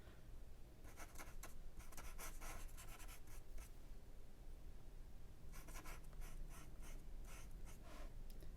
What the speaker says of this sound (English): Sorry if these scratching noises are like really annoying.